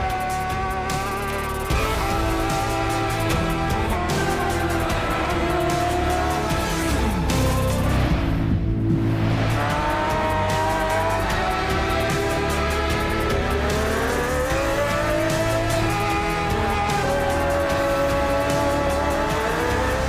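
Motorbikes race in the video game TT Isle of Man 3, with loud, continuous high engines rising and falling in pitch as the bikes rev through gear changes and sweep past.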